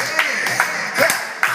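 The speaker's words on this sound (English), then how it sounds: "Everybody clap your hands." Party crowd clapping hands to funky dance music at a birthday party, a run of sharp claps in rough rhythm over a steady bright music bed.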